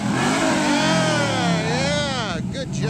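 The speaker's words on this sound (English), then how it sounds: "he revved that engine, spun those tires a bit" Car engine revving hard with rising and falling pitch as the tires spin, loud and close, while people talk over it.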